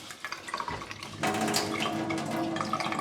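Water runs from a kitchen faucet, cold then hot, to drain the pipes. It starts as a faint trickle and then gushes into a loud, steady rush that lasts to the end.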